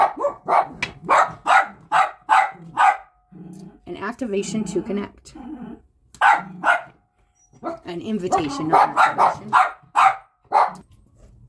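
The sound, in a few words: dogs barking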